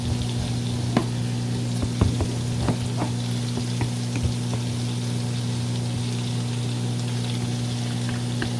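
Garlic browning in a hot pan, a steady close sizzle with scattered pops and crackles over a constant humming background, no speech.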